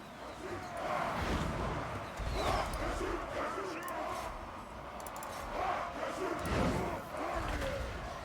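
An army cheering in a Warhammer campaign video game, a dense crowd of shouting battle cries rising and falling in waves over several seconds, loud and continuous with game ambience underneath.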